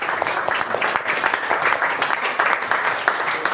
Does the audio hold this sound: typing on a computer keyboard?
no